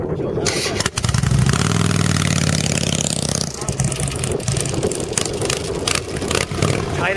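A Harley-Davidson motorcycle engine revving and pulling away as it rides around a course of cones, loud and close at first, then a rough running drone that fades somewhat.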